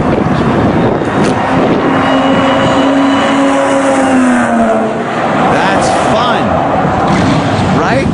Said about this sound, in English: That's another car starting up.